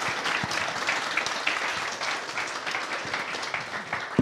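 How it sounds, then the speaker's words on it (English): Audience applause after a business talk on venture markets, a dense steady wash of many hands clapping throughout, fairly loud and continuous with no speech over it. "Big round of applause for Igor, please."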